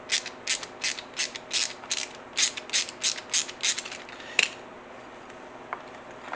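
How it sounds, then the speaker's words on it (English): A screwdriver ratchets in a quick series of about a dozen close, crisp clicks while snugging down a strap on a camera shoulder rig, then a single sharper click before quiet. "Snug it down with the screwdriver."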